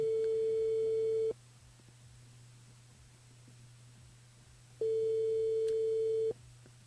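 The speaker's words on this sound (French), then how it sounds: "Alors déjà ça sonne." An outgoing telephone call ringing on the line, two long steady ring tones separated by a pause, over a low, constant hum on the connection.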